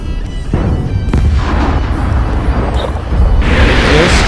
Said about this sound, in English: Airstrike literally took me out.